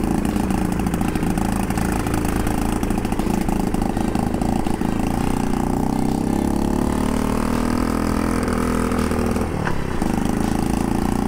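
A Honda Monkey 50 cc motorcycle with a suspected carburetor fault idles roughly and steadily, its small engine struggling with uneven sputters and a brief dip late on, close and continuous.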